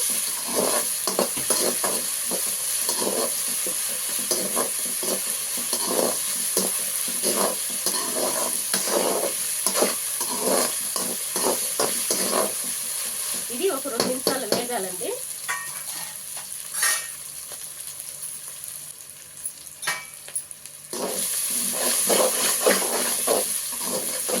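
Ginger garlic paste sizzles and fries in a pan while a spoon stirs it in frequent scraping strokes. The hiss is steady throughout, with brief quieter pauses between bursts of stirring and no speech.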